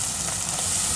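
Tomato and chili paste frying with translucent onions in a pan, a steady dense sizzle that fills the whole moment without pause, close and loud.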